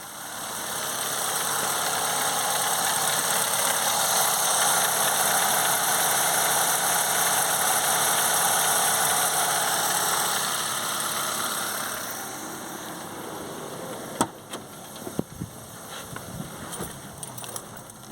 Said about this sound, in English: That's the RPM drop back down.